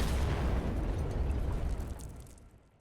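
A grenade detonates in the video game Wolfenstein with a loud, close blast and a rumbling roar that fades away over a couple of seconds.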